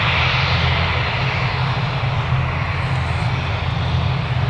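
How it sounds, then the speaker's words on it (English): A fixed-wing airplane passes over Newcastle Airport, its engine roar steady and loud throughout with broad rumbling low end, no voices. "Another aircraft flying over the airport."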